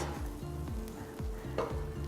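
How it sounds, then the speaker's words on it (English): French toast fries with soft sizzling and crackle in a pan, with faint scraping and low clinks, and no one talking. "We're just going to let that sizzle away for a minute"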